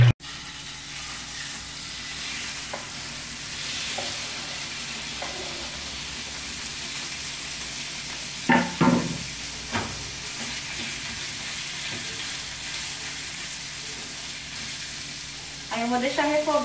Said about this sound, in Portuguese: Vou deixar refogar primeiro, tipo selar a carne, né?